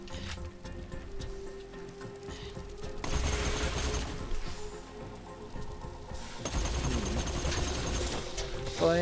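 A very fast-firing gun in the Borderlands video game rattles off rapid bursts of shots in two long stretches, dense and crackling, with quieter gaps between.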